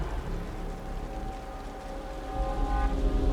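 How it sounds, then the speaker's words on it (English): Steady rain falls in the Wuthering Waves video game, a dense broadband hiss with a low rumble that swells louder toward the end, while faint tonal game music runs beneath. "The rain's getting heavier."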